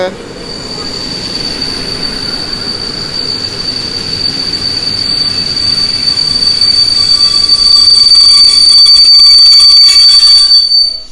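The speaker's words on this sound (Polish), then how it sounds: "Uwaga, będzie głośne hamowanie." A Polregio train brakes loudly at Warszawa Zachodnia station, a piercing high metallic wheel squeal ringing over heavy rumbling rail noise that grows louder before cutting off.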